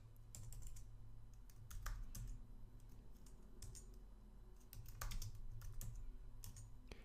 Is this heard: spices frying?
no